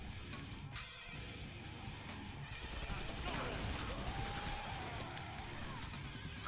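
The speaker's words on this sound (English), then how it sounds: "I'm trying to use my SMG just to save ammo right now." SMG gunfire in the video game Killing Floor 2: quiet, rapid bursts of shots and crashing impacts in a busy fight, with a voice talking over the action.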